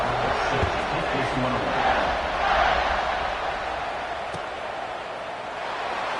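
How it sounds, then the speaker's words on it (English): Football stadium crowd roaring steadily at a Georgia Tech home game after a kickoff, a loud continuous wash of cheering with a brief swell near the middle. "this crowd is feeling themselves after that last drive"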